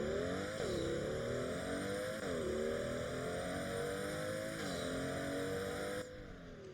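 A Pagani supercar engine in the Driving Empire driving game revs steadily at high pitch, its tone rising and dipping through a few gear shifts. It sounds loud and continuous, with no voices, and drops slightly in level at the end.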